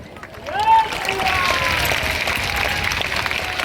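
Large crowd applause at an open-air religious gathering, a dense wash of clapping and cheering with a voice rising over it early on, continuing at full level throughout.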